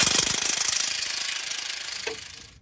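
An impact-type power tool with an 18 mm socket backs bolts off the inner bumper mounts of a Jeep Gladiator JT, making a loud, fast, steady hammering rattle up close that runs down and stops.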